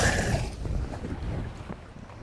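Strong wind buffets the microphone outdoors with a loud, rough roar that is heaviest at first, then eases into gusty rumbling. No one speaks.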